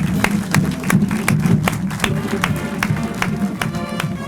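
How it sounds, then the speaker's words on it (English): Crowd applause just after a ribbon cutting at the opening of a fine arts center, a moderate patter of hand clapping that holds steady for a few seconds, with some background voices under it. "Big round of applause."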